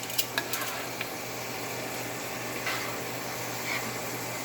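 Meat frying in a pan gives a steady, fairly quiet sizzle throughout, with a few faint clicks and light clatter near the start and no talking.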